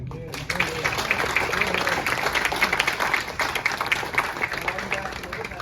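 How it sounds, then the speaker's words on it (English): A crowd bursts into sustained applause, dense clapping continuing steadily after a brief quiet start. "give another round of applause to all of us."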